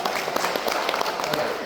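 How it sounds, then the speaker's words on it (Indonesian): Audience applause at a corporate leadership training session during an annual leaders' meeting, a steady dense patter of clapping from a crowd filling the short stretch without a break. "tepuk tangan buat kita semuanya"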